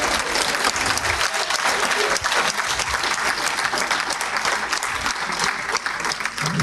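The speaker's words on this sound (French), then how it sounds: "On va applaudisser les 2." Dense, steady audience applause fills the hall for both finalists at the Breizh Awards 2023 ceremony of France Active Bretagne, with continuous loud clapping from a large crowd throughout.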